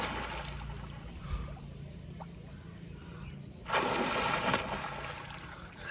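Someone bathing in lake water, with soft sloshing and splashing at a distance that grows into a louder, broader splash burst midway.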